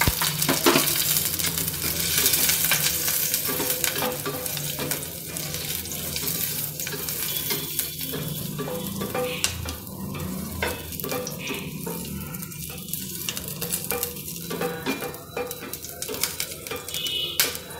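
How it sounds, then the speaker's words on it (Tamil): Ginger and green chillies sautéing in hot oil in a pan for a Tamil buttermilk curry, a steady close sizzle with stirring scrapes running throughout. "அதில் வந்து இந்த இஞ்சியும் நம்ம கட் பண்ணி வச்சுருக்க பச்சை மிளகாயும் போட்டு லைட்டாக வதக்கணும்"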